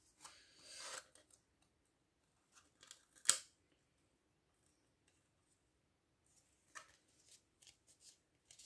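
Scissors snip through paper for a house-shaped scrapbook album, giving quiet, crisp cuts in short bursts with a louder sharp snip near the middle, then a few softer snips and rustles toward the end, with no talking.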